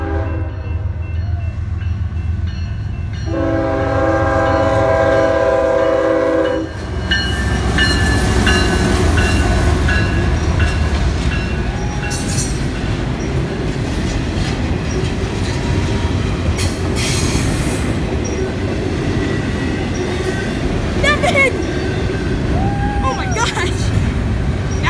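An NS or CSX intermodal freight train passes close by in Homestead, a loud continuous rumble of rail cars and clacking wheels with some squealing, while people talk over it.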